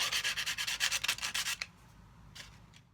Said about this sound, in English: I'm sanding it smooth with a file and with sandpaper, just to take off those sharp edges